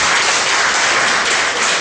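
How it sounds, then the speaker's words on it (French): An audience at a student association integration day applauds the president of Secordecam, with loud, dense, continuous clapping from a close crowd. "Donc je vous prie de l'applaudir très fort."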